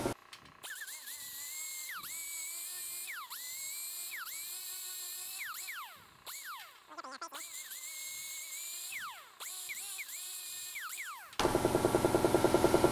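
A power tool grinds a body hammer, its high whining drone rising and falling in repeated passes with short gaps, followed at the end by a harsher buzzing burst.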